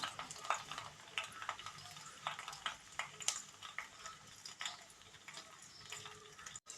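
Curry leaves fry in hot coconut oil, giving a soft, continuous sizzle punctuated by frequent small crackles and pops, fairly quiet and close, with no speech.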